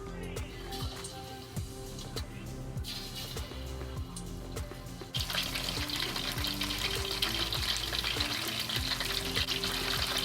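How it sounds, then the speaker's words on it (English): Coated pork pieces drop into hot oil and deep-fry, a steady sizzling hiss that jumps louder about halfway through as more meat goes in, with a low hum running underneath. "When the oil is hot, we add the meat into it to fry it."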